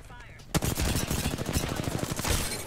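Rapid gunfire in a video game erupts after a brief quiet start, a dense burst of shots fired in quick succession, loud and close, continuing to the end.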